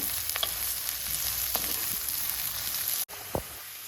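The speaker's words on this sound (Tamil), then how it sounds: "இப்போ வெங்காயம் வதங்கிடுச்சு" Onions sauté in a pan while cooking chicken pasta, giving a steady loud sizzle with a few clinks of a spoon stirring against the pan, briefly cut off near the end before resuming.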